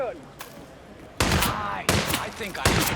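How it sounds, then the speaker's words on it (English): Gunfire in the Hitman video game: after a quiet stretch, three loud broadband bursts of shots ring out in quick succession, each with a short decaying tail. "Gunshot."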